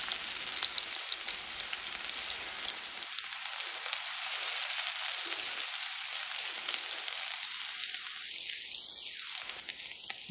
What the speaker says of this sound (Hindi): प्याज भुन गए हैं